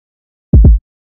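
A Tech Kick Bam Bam kick drum sample from a trap beat production sounds as a deep electronic thump, a quick double hit with a short boomy tail, alone in silence.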